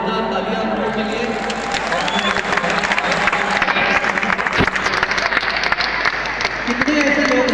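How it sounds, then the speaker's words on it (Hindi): A large crowd at an RCM anniversary gathering breaks into loud, sustained applause, dense clapping mixed with cheering and murmuring voices filling the space for several seconds. "एक बार बहुत जोरदार तालियां आप लोगों के लिए।"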